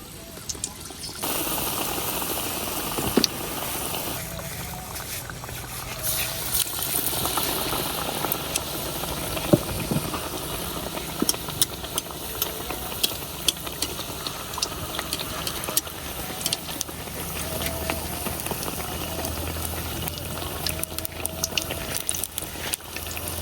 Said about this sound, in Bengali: এবার বেসনের চুবাইয়া তেলে দিয়ে দেন